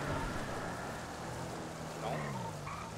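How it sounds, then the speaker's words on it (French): Steady rain hisses in GTA V roleplay, a constant broadband patter filling the scene at a moderate level while a voice talks faintly over it. "Putain, mais il pleut."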